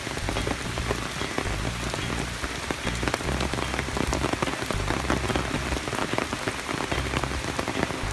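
Steady rain pours onto surfaces outdoors near temple ruins, a dense, even patter of drops that continues without pause, loud and close with no voices.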